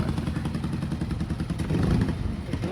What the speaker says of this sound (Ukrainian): Цундап приїхав.